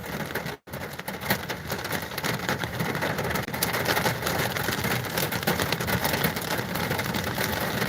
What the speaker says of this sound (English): if it's gonna be raining like this